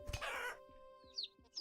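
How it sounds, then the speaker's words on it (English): A hen clucking in the survival game Vintage Story, a few short chirpy clucks spaced out after a louder burst of game noise, with a faint rhythmic thumping underneath. "I gotta kill this Generation 8 chicken, this hen, without killing the rooster if I can"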